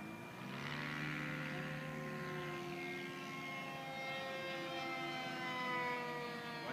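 A Durafly D.H. 110 Sea Vixen model jet flies overhead on its maiden flight, its ducted-fan engine giving a steady high whine that rises and falls slightly in pitch as it passes at moderate distance.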